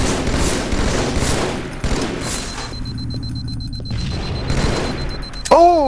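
Burst rifle fire in the Halo 2 video game rattles in rapid volleys under continuous game noise and explosions, ending with a rising electronic tone.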